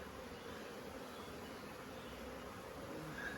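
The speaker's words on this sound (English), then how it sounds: "There's quite a few bees in it, look." Bees in an apiary hive being combined with newspaper hum in a steady, dense, continuous buzz, even and moderately faint throughout.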